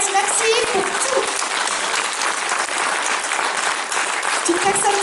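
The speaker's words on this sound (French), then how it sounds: "Je voudrais qu'on l'applaudisse très fort." Steady, loud audience applause fills a live concert at a festival, dense clapping running throughout with voices mixed in beneath.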